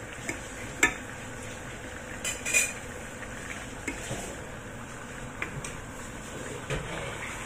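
Onion going into a pot of cooking pork, heard as faint clinks and clatters of utensils against the pot over a low steady hiss.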